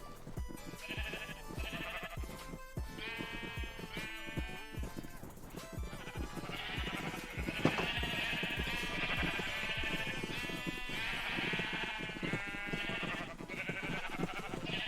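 Sheep in the Minecraft video game (version 1.21.8) bleat repeatedly in quick, overlapping calls over a busy background of in-game sounds and music, with no talking.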